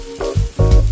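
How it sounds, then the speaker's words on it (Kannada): Spices sizzle and fry in hot oil in a pan for masala puri, a steady close crackle with louder bursts as they are stirred. "ಮಸಾಲೆಗಳನ್ನೆಲ್ಲ ಹಾಕ್ಕೊಂಡು ಹುರ್ಕೊಳ್ಳೋಣ"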